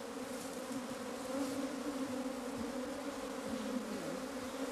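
Honeybees hum around an open hive as a healthy brood comb is lifted to show a large pale queen, a dense continuous buzz close by with no voices, steady in level throughout.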